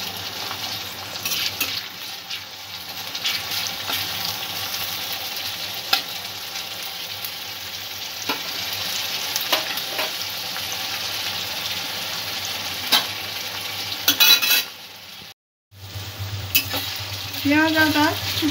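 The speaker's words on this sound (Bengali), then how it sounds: "আদাটাও পেঁয়াজের সঙ্গে একটু কষিয়ে নেব।" Chopped onion and ginger fry in hot oil in a pan for chole, giving a steady close sizzle with occasional scraping stirs and a brief drop before the frying resumes.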